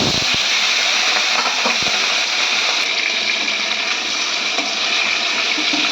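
Hilsa fish pieces slide into hot oil already spiced with cumin, raising a loud, steady sizzling hiss that holds close and constant throughout with no talking.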